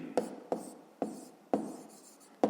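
A pen taps and scratches on paper while numbers are written out for a fifth-grade math exercise, five short, distinct strokes spaced about half a second apart, close and fairly quiet.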